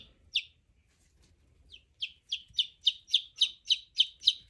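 Lavender baby chicks in a brooder give high, bright peeps, first scattered and then in a quick, steady run of about ten evenly spaced chirps. The peeps are close and clear over a quiet background, with no talk.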